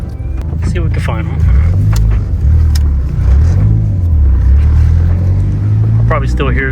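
A Chevy Cobalt's exhaust rumbles as the car drives over speed bumps in an apartment complex, its low drone rising and falling with the throttle beneath someone talking.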